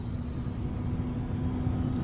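Twin jet engines of a Cessna Citation CJ4 spooling up for takeoff in Microsoft Flight Simulator, a steady, loud whirring roar with a constant high whine over deep rumble, sustained without a break.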